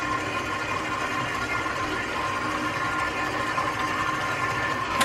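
An electric mixer beating cake batter with flour, salt and baking powder whirs at a steady, continuous drone with a faint rattling texture, at moderate volume and close by, without any talking.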